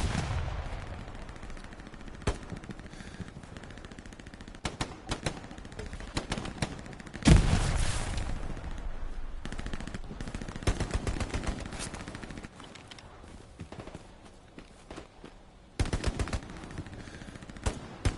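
Video game gunfire: scattered single shots and short bursts cracking at varying distances, with one loud close blast midway and a cluster of shots near the end, over a low ambient rumble.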